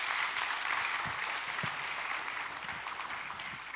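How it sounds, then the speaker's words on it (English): An audience at a cancer conference applauds after a panel discussion, a dense, steady wash of clapping from a room full of people, slowly easing off toward the end. "Let's give them a round of applause."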